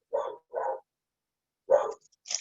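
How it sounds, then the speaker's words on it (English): A dog barks outside in short bursts, two quick barks, a pause, then a third, moderately loud with quiet gaps between. "Because that dog is seriously cutting up out there."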